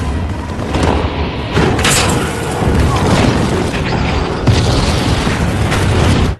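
A blast canister explodes in a film action scene, a dense roaring boom layered with crashes and debris, loud and sustained for several seconds with repeated heavy surges.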